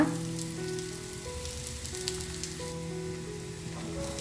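Flattened rice (poha) snack cooking in a pan until browned, a soft steady sizzle with a faint sustained tonal hum beneath, close and even with no talking.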